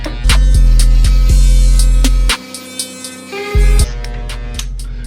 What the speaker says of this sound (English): on each one of these trimmers, this is the Wall Super Taper 2